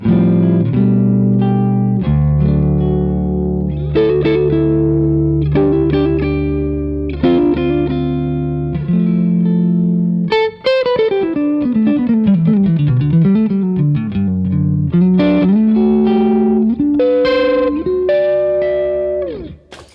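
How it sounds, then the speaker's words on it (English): Clean electric guitar played through the microamp-style boost setting of a SuperConductor boost pedal, with sustained chords and single-note melodic runs, close and fairly loud with a slightly lower push. "a microamp style boost, which sounds like this."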